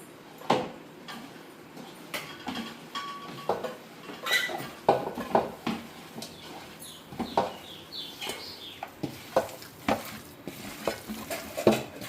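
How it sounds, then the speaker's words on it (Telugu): Sour curd being mixed in a bowl by hand or spoon, irregular clinks and scrapes of utensil against the bowl with soft wet stirring, close and fairly quiet, no talking. "పుల్లగా ఉన్న పెరుగు ఓకే మనం ఇది బాగా కలుపుకుందాం"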